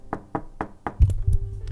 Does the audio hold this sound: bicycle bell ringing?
no